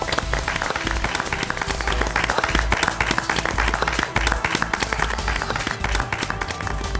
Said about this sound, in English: let's hear a big round of applause for Abu Dhabi Indian School